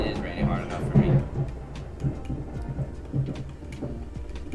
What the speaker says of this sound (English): maybe it is raining hard enough for me